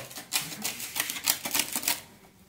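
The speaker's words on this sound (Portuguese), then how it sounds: "Eu vou pegar uma tesoura, que eu tenho própria para isso, tesoura de cortar chapa" Sheet metal snips cut through a sandpaper disc in a rapid series of crisp, rasping snips, about a dozen close, sharp crunches in an uneven rhythm.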